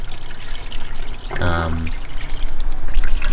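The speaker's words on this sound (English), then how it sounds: "Filling the car up with coolant as promised." Coolant pours into a Nissan car's cooling system in a short liquid glug about midway, over steady background noise.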